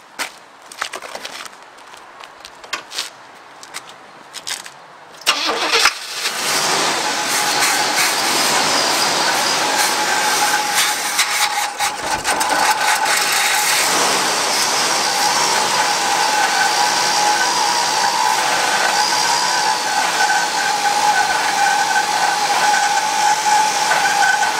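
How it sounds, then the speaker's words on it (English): A 1970 Oldsmobile Cutlass engine, fed a little starting fluid, gives a few scattered clicks and clatters, then cranks and catches into a loud, steady, close running rumble that continues for the rest of the stretch. "And then it should crank right up."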